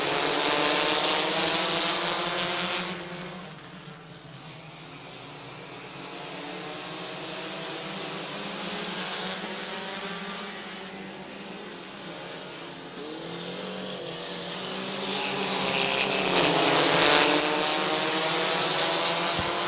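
Race cars at Midvale Speedway under green flag, engines droning and revving as the field passes, a steady roar swelling and fading with distance.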